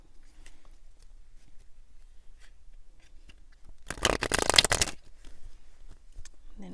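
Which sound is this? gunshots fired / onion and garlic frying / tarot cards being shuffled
tarot cards being shuffled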